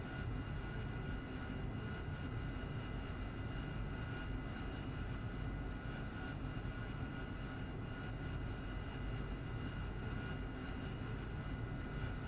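A steady aircraft engine drones through a flight simulator game such as DCS or War Thunder, a continuous broadband roar holding an even level throughout with no talking.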